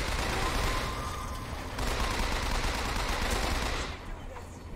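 Rapid bursts of automatic gunfire from the shooter game BioShock Infinite, dense and sustained across the whole stretch, with a brief drop in intensity near the end.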